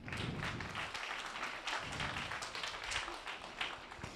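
Faint, steady audience applause at a public meeting on pensions in Beaurains, continuous dense clapping from a room of people heard at a distance and fairly low.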